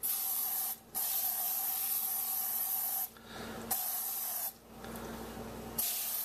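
A can of Crisco cooking oil spray hisses in three long bursts with short pauses between, sharp and close, a steady spray sound each time.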